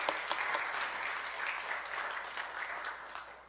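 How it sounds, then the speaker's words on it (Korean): Church congregation applauding together at a Sunday afternoon worship service, a steady wash of many hands clapping that holds evenly and tapers slightly at the end, with no talk over it. "우리 박수 한번 더 치도록 하겠습니다"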